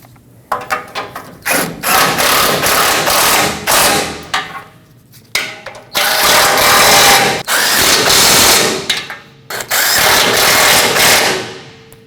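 A power tool snugs down front bumper bolts on a Nissan Frontier in loud repeated bursts, several runs of a few seconds each separated by short pauses.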